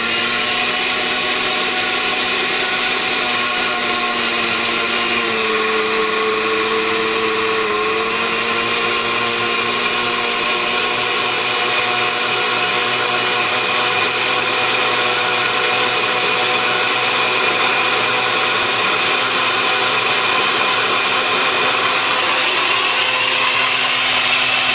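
A blender runs continuously and loudly, blending colloidal gold in a steady motor whine with a brief pitch dip partway through, no voices over it.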